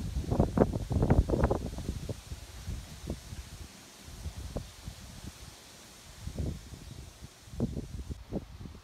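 Gusts from storm Miguel in Angoulême buffet the microphone in rough, rumbling bursts that swell strongly at first, ease off, then return in shorter surges.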